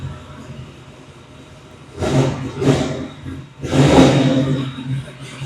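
A cold 1953 GMC cab-over truck with a big-block engine idles roughly, then revs up raspily in two short bursts followed by a longer, louder rev, heard close.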